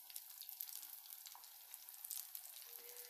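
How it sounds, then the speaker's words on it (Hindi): Potato and sabudana tikkis deep frying in hot oil, a soft, steady crackling sizzle with scattered pops, faint and continuous. "अब इसे हम डीप फ्राई करेंगे। ये टिक्कियाँ मैंने डाल दी हैं।"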